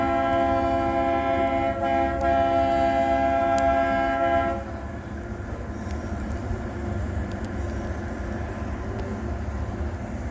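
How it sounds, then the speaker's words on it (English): Cog railway train on a mountain line, a steady rumbling run with a sustained horn-like tonal drone for the first few seconds that then cuts off, leaving the train's continuous rolling noise up close. "Look at the train."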